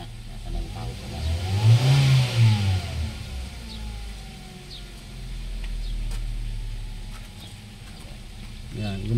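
The engine of a Kia Rio with a crankshaft sensor fault catches after starting, revving up briefly, then settling into a steady mid-pitched idle, heard close with a voice talking nearby.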